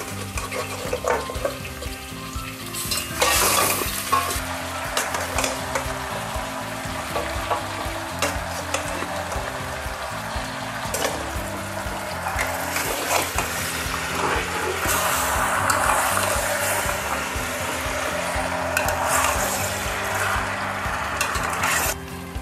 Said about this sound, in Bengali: এখন আমি দিয়ে দিচ্ছি মাংসগুলা